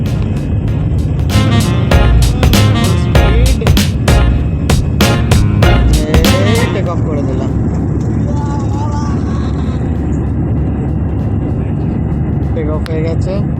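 An airliner departing Kolkata at night roars loudly as its engines spool up for takeoff, a constant heavy rumble in the cabin with a voice talking over it and sharp clicks early on.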